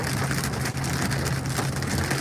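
Light, sporadic hail and rain patter on surfaces during a severe storm near Manhattan, Kansas, in a constant, dense wash of ticking impacts with a low rumble underneath and no voices.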